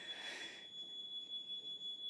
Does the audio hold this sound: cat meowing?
no